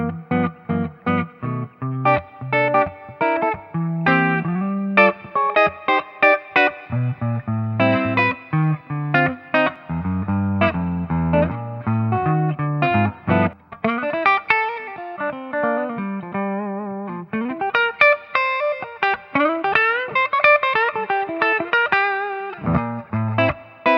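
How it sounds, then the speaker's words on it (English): Clean electric guitar through a Carvin V3M amp on the clean channel, classic mode in center position, playing chords and melodic runs with a soft reverb tail, steady and fairly loud, with no voices. "Let's use the classic mode in the center position, clean channel, and maybe just a touch more reverb."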